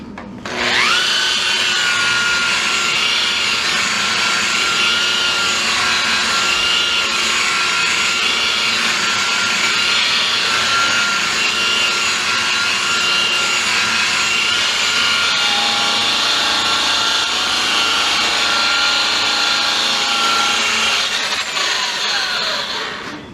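A power buffer polishes a body panel on a Factory Five 33 Hot Rod V2 kit car, a steady, loud high-pitched motor whine with rubbing friction that runs nearly unbroken for over twenty seconds, with no talk over it.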